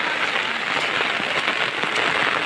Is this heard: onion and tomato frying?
no